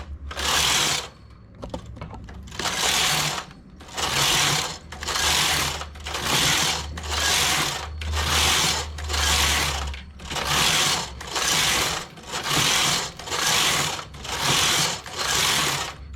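A domestic knitting machine works a part (hold) stitch, its carriage sweeping across the needle bed in about a dozen steady, evenly spaced rasping passes, close and loud, with a low hum beneath.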